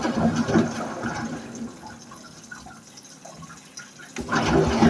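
A Brandt washing machine filling with water at its high level setting, a loud gushing rush that eases to a quieter trickle before surging strongly again, with no voices.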